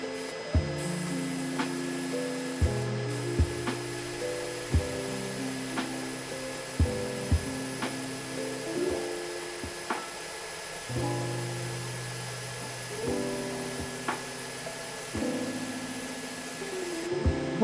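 A steady, hissing spray from a small compressor-driven airbrush applying nail color, broken by short pauses and soft clicks as the spraying starts and stops.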